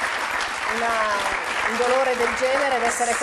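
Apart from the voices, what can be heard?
audience applause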